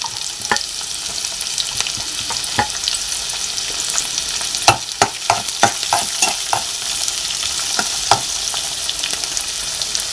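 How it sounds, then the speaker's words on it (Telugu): Onions frying in a pan for tomato upma give a steady hiss of oil, broken by a quick run of sharp spatula scrapes and clacks against the pan, close and loud with no talk. "ఉల్లిపాయ కూడా బాగా ఫ్రై అవ్వాలి."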